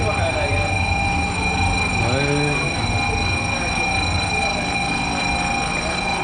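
A train arriving at a station in Japan rumbles steadily with a constant mechanical drone and a brief rising tone midway, continuous and fairly loud throughout.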